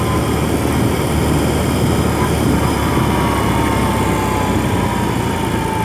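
A 2021 BMW R 18 cruiser motorcycle with an 1800 cc engine rumbles continuously and loudly at a low pitch, with steady wind noise while riding.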